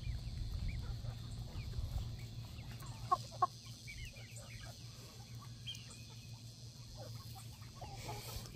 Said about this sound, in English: This is a Bresse meat bird.